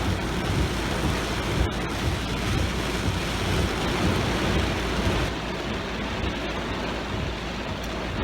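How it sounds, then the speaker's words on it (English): Heavy rain pours in a dense, constant hiss while low thunder rumbles roll underneath. "raining pretty hard. Just heard some very frightening thunder and lightning."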